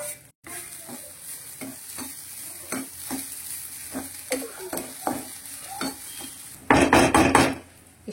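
Grated coconut is roasted in a kadai for Mangalorean cucumber sambar, with repeated spatula strokes scraping the pan at an even pace, then a louder burst of sizzling near the end.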